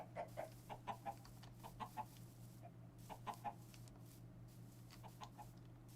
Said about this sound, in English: There are so many chickens.